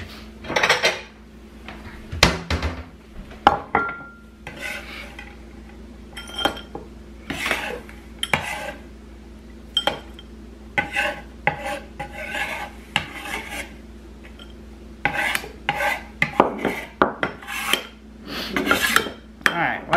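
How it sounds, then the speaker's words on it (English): Ceramic bowl and dishes being fetched and handled in a home kitchen while preparing a Halloween cake, with repeated clinks, scrapes and clatters of crockery and cutlery, fairly close, with no talking. "I'll get a bowl to put this in."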